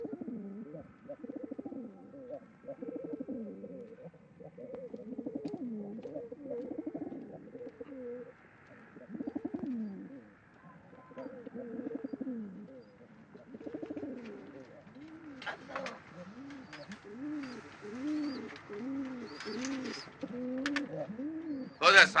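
Pigeons coo steadily in soft, rounded, repeated bursts throughout, fairly close and moderate in level, with a few brief higher rustles and clicks near the end.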